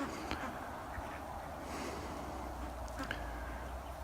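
Ducks quack faintly in a large new backyard pen shared with chickens, a few soft calls scattered over a low, steady outdoor background.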